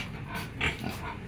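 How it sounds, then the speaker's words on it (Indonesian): Pigs grunting inside a farm pen behind a fly-protection net, with one brief, louder squeal-like grunt near the middle over a steady low barn murmur. "ini adalah sisa-sisa ternak babi saya"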